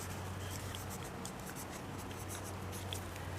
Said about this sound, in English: Another thing I really like about these cups is that you can write on them.